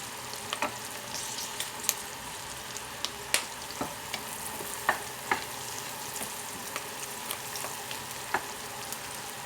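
Chopped vegetables and onions sauté in ghee in a pan, giving a steady soft sizzle with scattered sharp crackles and pops, close and unaccompanied by talk.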